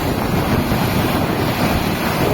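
Floodwater from the river rushes near a bridge at Puligadda in Diviseema, a steady loud roar with wind buffeting the microphone and no pauses.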